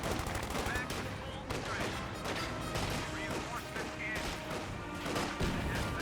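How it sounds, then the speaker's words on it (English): Rapid bursts of Thompson submachine gun fire in the video game Company of Heroes 2 crackle amid other battlefield gunfire, a busy chattering mix under faint commentary. "The captain model still alive, so his Thompson's still going."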